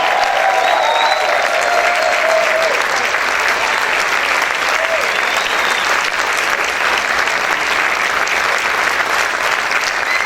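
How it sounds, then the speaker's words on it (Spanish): Sustained, loud applause fills a church as the whole congregation claps continuously, a thick even roar of hands with scattered faint cries and tones riding over it. "Den ese fuerte aplauso al Rey."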